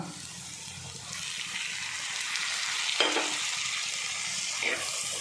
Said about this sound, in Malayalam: ഈ വെളിച്ചെണ്ണയിൽ തന്നെ ഒന്ന് വഴറ്റി എടുക്കാം കേട്ടോ